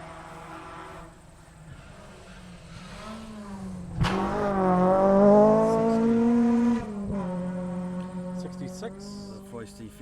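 A Ford Fiesta rally car drives through a special stage of the 2019 Otago Rally. The engine note grows and revs hard to a loud peak as it passes close by, then drops away while a commentator talks over it.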